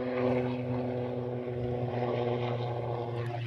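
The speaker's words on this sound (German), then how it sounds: "Lassen wir den Helikopter kurz zu Ende fliegen hier über uns." A helicopter flies overhead, its steady, loud droning rotor and engine hum holding constant throughout with no talking.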